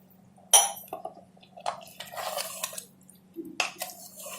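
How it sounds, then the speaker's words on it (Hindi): Water poured into a pot of spinach and meat curry sounds as a short splash followed by scattered sloshing and clinks of utensils against the pot, fairly close and moderately loud, with brief quiet gaps between. "अब इसमें हम डाल देंगे आधा गिलास के करीब पानी"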